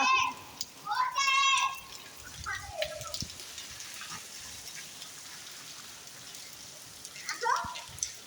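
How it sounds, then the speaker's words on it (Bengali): Heavy rain pours onto a rooftop with a steady, close patter, while a child and an adult talk over it in short bursts. "আজকে বৃষ্টিটা অনেক সুন্দর সুন্দর বলতে কি ঝুম বৃষ্টি, প্রচুর বৃষ্টি"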